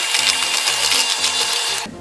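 Electric mixer running slowly through flour and gingerbread cookie dough, a steady close whir with a rhythmic pulsing churn as the beaters turn, cutting off abruptly near the end.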